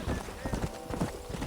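Horse hooves clip-clop in a steady trotting rhythm while riding in the video game Red Dead, close and moderately loud with a voice speaking over the hoofbeats.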